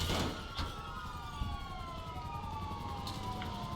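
A wailing police car siren rises and falls steadily over a dense, noisy GTA 5 game soundscape, with a few sharp knocks early on.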